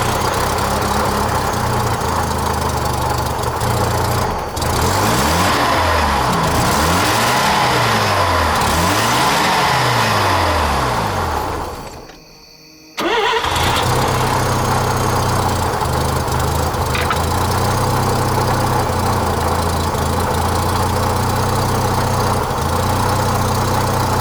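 A car engine, reportedly fitted with the wrong injectors, starting up and running loudly nearby with rough idle and repeated revs, cutting out briefly partway through before starting again and settling back into a steady drone.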